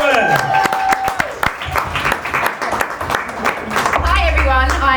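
Seminar audience applauding a panel moderator, a full round of clapping from a sizable crowd with a few cheers and whoops mixed in, and voices rising over it near the end.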